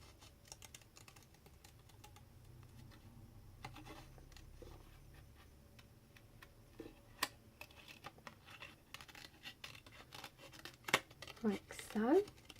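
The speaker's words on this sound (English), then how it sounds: "Now I'm just going to quickly cut this out" Scissors snip around a stamped card front for a Stampin' Up! celebration card, giving a run of small, close clicks and crisp cuts that grow busier toward the end, with no talk.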